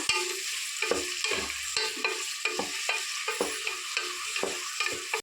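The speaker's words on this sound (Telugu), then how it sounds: "ఒక మూడు ఉల్లిపాయలు మూడు ఉల్లిగడ్డ వేసానండి ఫ్రై చేసుకున్నాము గొడ్డం కలర్ వచ్చే వరకు" Three onions frying in a hot pan for a mutton curry, stirred with steady scraping strokes over a continuous close sizzle, the spoon knocking at a regular rhythm.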